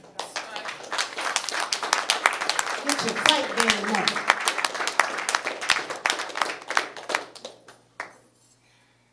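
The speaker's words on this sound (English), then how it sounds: "Give him a round of applause." A crowd claps in a lively round of applause, sharp hand claps rattling quickly and irregularly while a voice speaks over them, before the clapping stops abruptly near the end.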